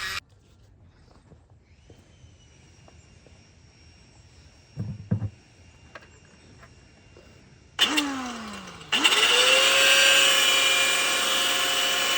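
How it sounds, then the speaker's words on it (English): A Dremel rotary tool grinds down metal near the U-joint of a Cummins-swapped Land Cruiser. After quiet handling noises it spins up with a falling pitch, pauses briefly, then runs as a loud, steady, close-up grinding whine. "I'm gonna actually take a Dremel and get in here and just file it down"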